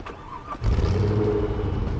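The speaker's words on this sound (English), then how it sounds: "That's a loud engine." A loud car engine in the Police Simulator: Patrol Officers video game, a close, steady, deep rumble that swells up after a brief quieter start and holds throughout.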